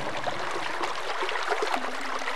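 A gushing stream of water, about four feet high, pours steadily from an underground channel that has flowed for 250 years, making a continuous close rushing wash with no pauses.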